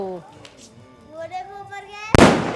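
A Diwali firecracker bursts with a sudden loud, sharp bang near the end, after children and adults chatter and call out in the moments before it goes off.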